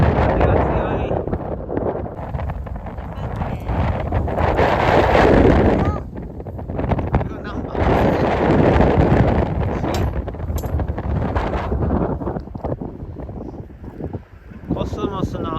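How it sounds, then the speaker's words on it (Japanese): Strong wind blows across a park golf course in Saitama, roaring and buffeting the microphone in loud gusts that rise and fall, with brief lulls between them. "風が強い。"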